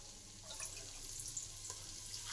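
Water poured into a pot of lentils for pressure cooking, a soft steady rush that runs quietly and alone through the whole moment.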